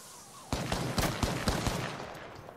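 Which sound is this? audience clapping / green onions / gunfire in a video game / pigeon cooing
gunfire in a video game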